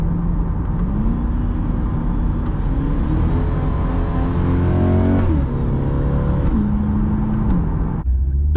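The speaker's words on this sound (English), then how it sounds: "if we're just cruising along, you can barely hear the exhaust" A car with a catalytic-converter-delete exhaust hums steadily from inside the cabin, windows up, with gentle rises and dips in pitch as it cruises and shifts.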